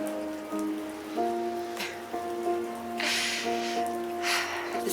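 Rain falling in the video game South of the Circle, a soft steady hiss with brighter gusts of patter swelling midway and near the end, heard beneath a sustained, layered musical drone.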